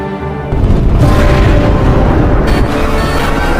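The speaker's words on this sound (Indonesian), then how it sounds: "Jepang pun melepaskan tembakan peringatan" Warning shots fired by Japanese forces at an aircraft attempting to land, heard as a dense, loud sustained booming barrage that starts abruptly after a brief quieter moment and rumbles on without pause.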